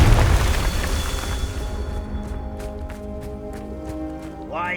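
A Confringo fire spell explodes in the Hogwarts Legacy catacombs: a loud, full blast at the start that rolls off into a fading rumble, with sustained game music and ambience beneath.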